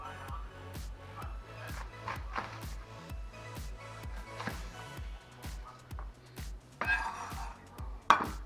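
Fresh cabbage is chopped with a knife on a cutting board in a home kitchen, giving a steady run of about a dozen close, crisp thuds at an even rhythm, with a few sharper knocks near the end.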